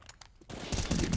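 A quick burst of automatic rifle fire from a competitive CS:GO match on the Mirage map, quiet and dense, building over about a second into rapid cracking shots with no talk.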